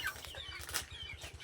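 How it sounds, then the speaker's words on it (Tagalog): Chickens cluck softly around a rural house, the low rhythmic clucks faint and distant under a hissy outdoor background. "Akong manok."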